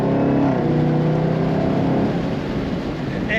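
A Chevrolet Camaro ZL1 convertible pulls hard on the road, its engine roaring steadily and loudly from start to finish with a dense, sustained growl and no voices over it.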